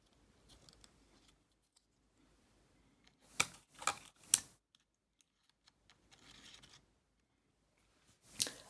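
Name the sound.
SD memory card taken out of camera, inserted into computer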